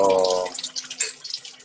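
Water runs from a lab tap in a chemistry teaching lab for about half a second, then cuts off, leaving faint clinks and small handling sounds.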